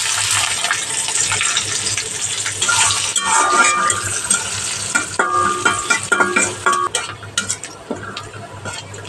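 Chopped onions hit a pan with garlic already fried in oil, giving a loud, continuous sizzle and crackle with scraping stir strokes that grows choppier toward the end.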